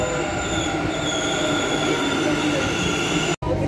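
A Bangalore metro train runs loudly and close, with continuous rumbling rail noise and high wheel squeal throughout, briefly cut off near the end, and no talk over it.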